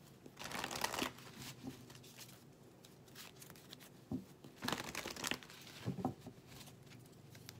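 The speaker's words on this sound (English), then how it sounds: "I want to pull one little card on you." Cards being handled and drawn from a tarot or oracle deck during a love reading, heard as soft papery shuffling and snapping bursts in a few clusters, close and fairly quiet with no talking.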